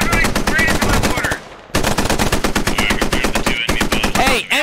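Dense, close machine gun fire from the Squad video game pounds in fast, regular bursts, with one short pause and a few heavier thumps that fit mortar impacts.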